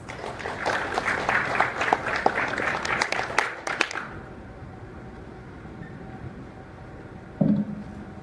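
An audience at a government event in a hotel applauds warmly, a dense burst of clapping that carries for about four seconds and then cuts off. A low room murmur and a brief thump follow.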